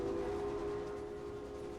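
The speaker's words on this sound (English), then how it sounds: "The train's caught up." Steady train running in the Railway Empire video game, a continuous rumbling drone with a sustained tonal hum, moderately loud and unbroken, with no talk.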